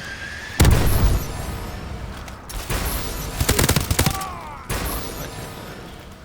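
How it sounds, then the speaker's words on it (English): Missile strike explosions and gunfire from the multiplayer mode of Call of Duty: Advanced Warfare, arriving as three loud bursts of booms and rapid shots separated by brief lulls, with no voices over them. "Friendly missile strikes inbound."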